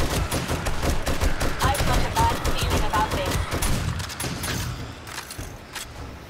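Rapid machine gun fire in the zombie survival game 7 Days to Die, a dense continuous burst of shots that fades slightly toward the end.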